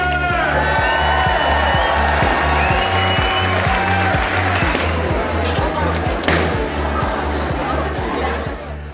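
Applause and cheering from a crowd at an event for the Princess Máxima Centre for childhood cancer, honouring a queen and DJs, heard over loud pounding dance music with a thumping beat and chatter.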